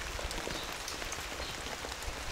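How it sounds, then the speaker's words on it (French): Rain falling steadily onto the surface of an outdoor swimming pool, a dense, even patter of drops that stays constant and moderately quiet throughout, with no voices. "parce qu'il pleut pas mal"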